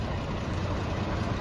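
A tractor engine idles steadily while warming up before pulling a grain cart, a continuous low rumble with no talk over it.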